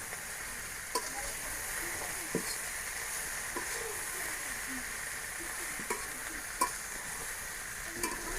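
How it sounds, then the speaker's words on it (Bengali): Water spinach is stirred into hot oil in a pan in a village kitchen, a steady close sizzle broken by occasional scraping and clinks of the spatula, with no talking. "কলমির শাক দিয়ে একটু নাড়াচাড়া দিয়ে নেবো মিশিয়ে।"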